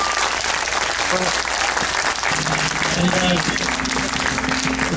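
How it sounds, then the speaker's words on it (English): A crowd applauding for Peter Cullen at a fan meet-and-greet, steady loud clapping throughout with a voice speaking over it. "we have a round of applause for him"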